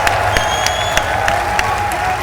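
A crowd at the EVO 2015 Ultra Street Fighter 4 tournament claps and cheers continuously, a dense loud wash of applause with whoops, while a commentator's voice carries faintly over it.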